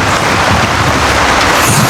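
Steady rain falling, a loud, constant broadband wash of drops with no pauses, heard alone throughout the short stretch.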